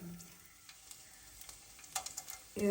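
Green chilies fry in oil for a Telugu grandmother's chutney, giving a faint, steady crackle with scattered light pops and a louder burst of spatter and clatter at the very end.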